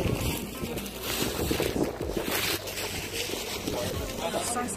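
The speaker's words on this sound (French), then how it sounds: "Il y a beaucoup de vent, c'est pas si mieux." Strong wind buffets the microphone outdoors, a continuous loud rumbling roar of gusts with no clear pauses.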